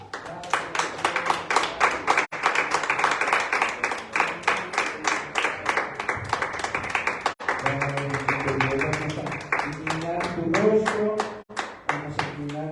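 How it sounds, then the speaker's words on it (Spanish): Church congregation clapping steadily during a Sunday evening service, a dense rhythmic applause of many hands that carries on throughout, with voices and tonal sounds rising underneath in the latter half. "Dale un fuerte aplauso a Dios"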